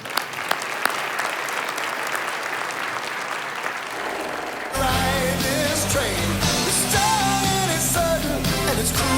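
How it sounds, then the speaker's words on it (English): Audience at a city State of the City address applauding Dr. Crow, a dense sustained roll of clapping from a large room that swells louder partway through and continues alone. "Another round of applause for Dr. Crow, please."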